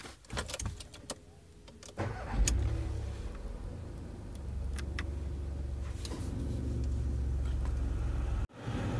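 A 2017 Volkswagen Polo engine cranks and catches after a few mechanical clicks, then settles into a steady, low idle hum heard from inside the car, ending with a brief dropout near the close.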